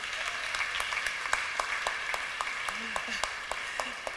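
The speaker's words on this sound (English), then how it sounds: "Let's clap for mama now." Audience clapping for a centenarian mother at her 100th birthday celebration with a cathedral choir, a steady spread of hands with sharper individual claps standing out, and faint talk underneath.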